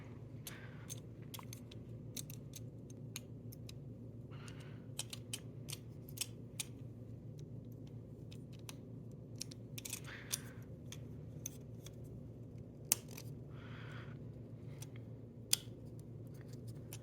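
Small plastic clicks and ticks from fitting a CR1632 coin battery into a Lexus/Toyota key fob, scattered sparse taps over a steady low room hum, close and faint with no talking.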